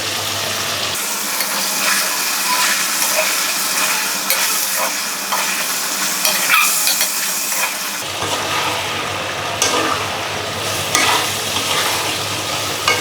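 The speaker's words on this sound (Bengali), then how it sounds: "এইভাবে ভাজা ভাজা হতে থাকবে।" Onions and green chillies frying in a pan make a loud, steady, close sizzle with continual stirring, alone with no voices.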